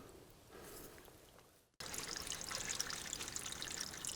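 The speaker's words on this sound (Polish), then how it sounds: "Cały rezerwat jest poprzecinany takimi ciekami wodnymi, które stanęły już blisko potoka Łaboszczańskiego" A small forest stream trickles through the Łabowiec reserve in the ancient Carpathian woodland, a faint steady babble that breaks off briefly and returns as a fuller, closer flow of running water, with no voices.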